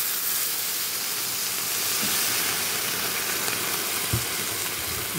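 Water is poured into a pan of fried tilapia. It gives a steady, broad hiss and sizzle that lasts throughout, with one soft knock near the end.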